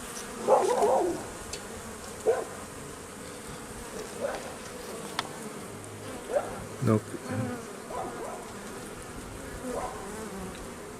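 Honeybees buzzing over a brood frame during a full hive inspection, a steady close drone, with a few brief words spoken in French.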